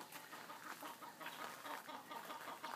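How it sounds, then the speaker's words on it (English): Backyard chickens cluck softly and continuously for a few seconds, faint and somewhat distant, with no voices over them. "Here's some of my chickens."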